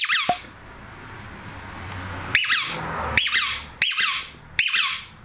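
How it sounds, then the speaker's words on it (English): A Kong Squeak Air squeaky dog toy squeaks sharply five times, one isolated squeak followed by four more in an irregular rhythm, loud and close with quiet gaps between. "So we got a Squeak Air, which is by Kong,"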